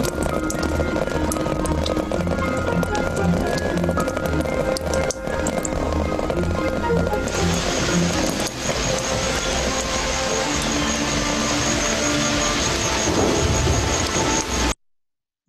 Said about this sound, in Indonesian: selanjutnya di sini kita suara tetesan hujan.